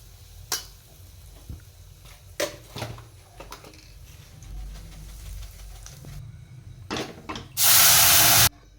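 A pressure cooker holding dal, pumpkin and tomato sits on a home stove, with faint clinks and low rumble before its whistle bursts into a loud, sharp hiss of escaping steam near the end.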